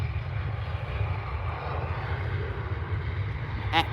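Jet airliner engines roaring steadily at Manchester Airport, a continuous loud low rumble and whoosh of an aircraft passing overhead, with a brief sharp noise at the very end and no speech.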